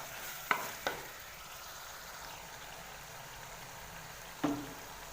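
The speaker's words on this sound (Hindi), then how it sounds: "अब इसको हम अच्छी तरह भून लेते हैं।" Meat and chili frying in a pan for carrot and meat curry, a faint steady sizzle broken by a few sharp clinks of a spoon stirring against the pan.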